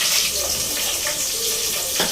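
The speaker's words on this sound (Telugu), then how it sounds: "1 స్పూన్ ఆవాలు, 1 స్పూన్ జీలకర్ర, ఉల్లిపాయ, పచ్చిమిర్చి వేసేస్తున్నాం." Mustard seeds, cumin, onion and green chilli sizzle and crackle steadily in a hot pan, a loud close frying hiss with no talking.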